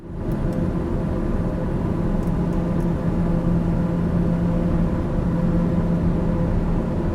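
Steady airplane engine drone in Microsoft Flight Simulator during an IFR flight, a continuous loud cockpit hum with low rumble and a faint tonal whine, unbroken and without talk.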